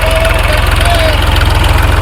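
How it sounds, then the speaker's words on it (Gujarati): Tractor sowing garlic on a farm in Paliyad: a close, loud engine chugs in a steady rapid rhythm, unbroken for the whole moment. "હોમાભાઈ ટ્રેક્ટરથી લહણ વાવ્યા છે આપણી વાડીએ."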